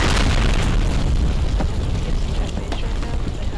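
A new bomb from a Minecraft mod explodes into a loud, sustained roaring blast that rumbles on without letup, with a player's voice talking over the noise.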